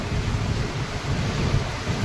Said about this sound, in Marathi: पाठीमागे बघू शकता अक्षरशः अवकाळी पावसाने झोडपून काढलाय